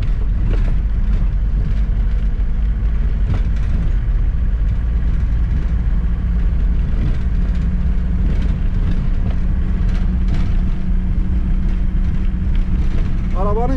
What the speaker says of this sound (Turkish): Arabanın gürültüsünden umarım konuştuklarım duyuluyordur